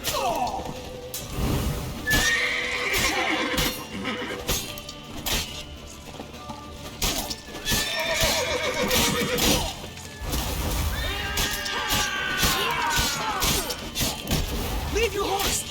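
Horse in the video game The Witcher 3 whinnying repeatedly amid heavy thuds, crashes and hoof impacts, with combat noise and talking layered throughout a busy, loud scene.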